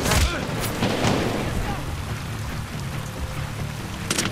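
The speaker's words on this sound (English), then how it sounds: "Grenade." Grenade explosion in Medal of Honor: Warfighter, a sharp boom at the start followed by scattered crackling impacts and rumbling gunfire, with someone talking over the combat noise.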